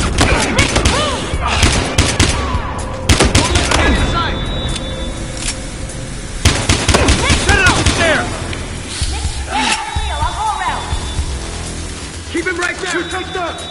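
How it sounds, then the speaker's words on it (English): Gunfire from the video game Battlefield Hardline rattles in dense, loud bursts and volleys with booming impacts, mixed with shouting voices throughout. "Shots fired."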